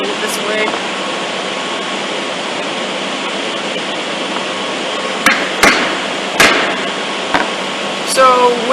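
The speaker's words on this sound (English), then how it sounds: "it is my 1/2-inch chisel to cut down and the chisel in from the end" A 1/2-inch chisel is driven with a mallet while dovetail pins are cut in wood, a few sharp, separate knocks landing late over a steady background hiss, close and loud.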